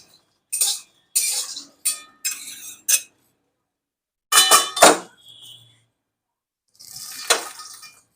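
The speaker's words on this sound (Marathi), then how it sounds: "मखाने मंद गॅसवर भाजून घेतले" Makhana (fox nuts) roasting in a pan on low flame rattle and clatter in several short bursts as they are stirred and tossed, with quiet gaps between the dry, crisp scraping clusters.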